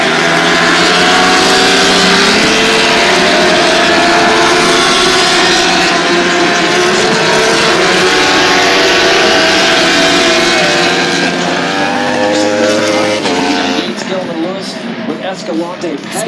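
Superbike racing motorcycles scream past on the Road America circuit at Elkhart Lake, a loud sustained engine roar swelling and fading as the pack flies by, with someone talking over it.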